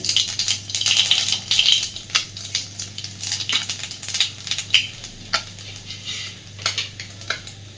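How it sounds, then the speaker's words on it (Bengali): Nigella seeds sizzle in hot oil left in a wok after frying fish, a loud, close, continuous crackle with occasional metallic stirring clinks and no talk. "এবার আর তেল দেবো না কড়াইতে যথেষ্ট তেল আছে ফোড়নে দিচ্ছি একটু কালো জিরে"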